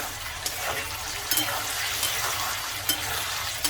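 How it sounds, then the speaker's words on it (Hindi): Potatoes fry in oil and get stirred in a pan while Sindhi pulao cooks, making a continuous hissing sizzle broken by a few soft scrapes of the spoon. "अब यहाँ से आलूओं को बीच में इस तरह से चलाते रहना है।"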